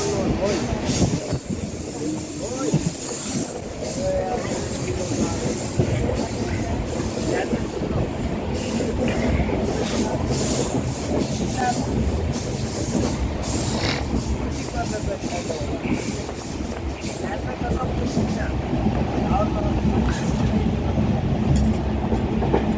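Overcrowded third-class Indian passenger train, the Karnataka Express, running along the line: continuous loud rumble with rhythmic wheel clatter, metallic squeals and hiss, with passenger voices mixed into the din.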